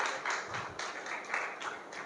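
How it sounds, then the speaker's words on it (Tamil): A church congregation at a Sunday service claps in a dense, steady patter of many hands, fairly loud and continuous with slight swells throughout. "கைத்தட்டுங்க."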